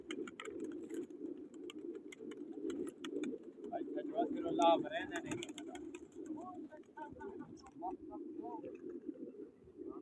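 Pigeons coo in low, soft, repeated rolling calls that run continuously and close, with a brief higher vocal burst partway through and a faint background hum.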